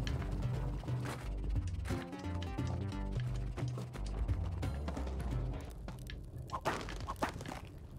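A horse mount in the video game Spelunky 2 clip-clops in a steady, rhythmic trot over in-game music and mechanical clatter, moderately quiet throughout.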